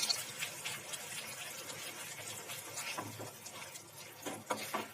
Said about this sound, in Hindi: वन फोर्थ कप हम पानी और डाल रहे हैं